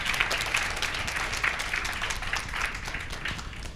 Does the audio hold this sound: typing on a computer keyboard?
no